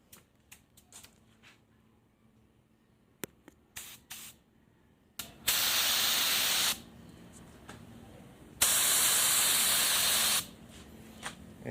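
A spray gun or aerosol lays a thin mist coat of paint onto a Honda Click motorcycle crankcase, in two long, loud, steady hissing bursts after some small clicks and handling noises.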